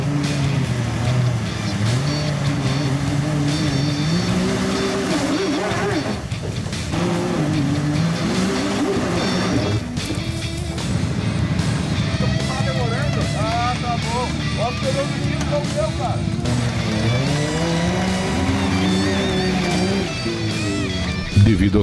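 Off-road Jeep engine revs and labors as it climbs out of an obstacle on a club trail ride in Chapecó, SC, loud and continuous with shifting pitch, tire noise and people talking throughout.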